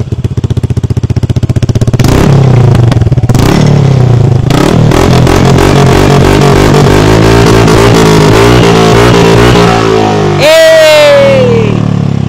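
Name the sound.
motorcycle exhaust revving without silencer, Villain pipe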